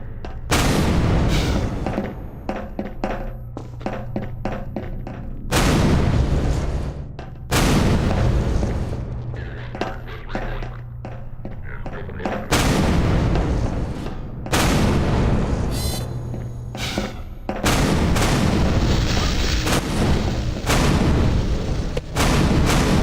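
Automated gun turrets in a video game fire in long, loud, rapid bursts of booming shots, separated by brief pauses and repeating throughout.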